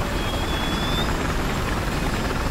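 Aircraft engine in the Battlefield 4 video game, a steady loud rotor-like roar with a faint rising whine, continuous throughout with no talk.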